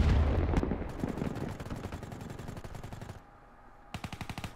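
Vesper submachine gun firing in Call of Duty: Black Ops 3, a loud rapid automatic burst with dense evenly spaced shots for about three seconds, a short lull, then another quick burst near the end.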